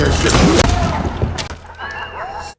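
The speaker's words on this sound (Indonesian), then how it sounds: "tembakan barusan mengundang anak buah Gomez berdatangan ke ruangan tersebut" A sharp gunshot bursts out at the start, then a busy, noisy scene trails off with a few scattered knocks and thuds.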